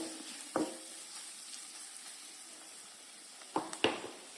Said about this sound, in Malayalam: ശേഷം തക്കാളി ഒരു ചെറിയ തക്കാളിയാണ് ആയിട്ട് നല്ലോണം വാറ്റി കൊടുക്കുക